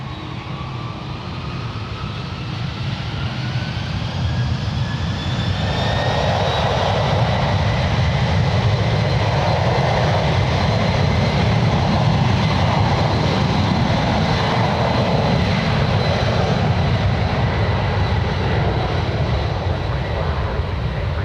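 A Delta Boeing 767-300 takes off from San Francisco International bound for JFK, its loud engine roar building over several seconds. A rising turbine whine climbs in pitch above the thick, sustained rumble.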